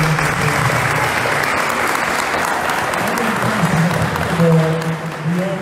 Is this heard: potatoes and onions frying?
no